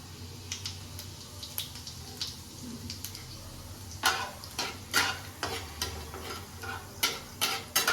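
Whole cumin seeds sputter in hot oil alongside whole garam masala for homemade butter chicken, a steady close sizzle broken by a run of sharp, evenly spaced spoon scrapes and taps in the second half.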